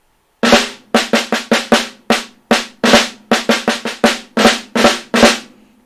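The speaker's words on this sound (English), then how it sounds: "So it would either be the buzz press sound" A snare drum plays a series of short buzzed press strokes, each a quick crushed roll that rings and decays; loud, close, with irregular spacing.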